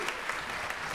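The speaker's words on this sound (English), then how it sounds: "Let's give the choir another round of applause." A congregation at a Sunday morning service gives the choir another round of applause: thick, continuous clapping filling the room at a steady level, with no voices standing out.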